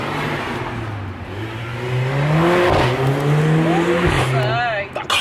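A loud car roars past close by, its engine note rising and falling in a strong droning sweep, with people talking over it throughout.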